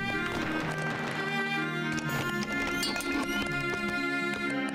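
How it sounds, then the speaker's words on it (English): Horse hooves clip-clopping in the strategy game 0 A.D., a rapid run of taps layered over steady game music and ambient tones, moderately loud and continuous. "The horses should sound like a horse, not a man."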